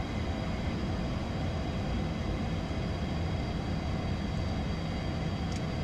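Private jet on its takeoff roll with flaps coming up, a steady loud broadband roar of jet engines and airflow heard from inside the cabin, unchanging throughout with no talk.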